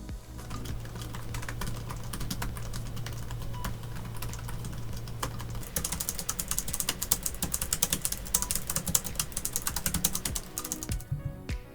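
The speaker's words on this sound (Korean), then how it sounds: "키보드의 소음이 크고 워낙 독특하기 때문에" Rapid clacky typing on a Hansung TFG156 laptop keyboard, a dense stream of key taps close by, shifting to a sharper, louder clatter partway through.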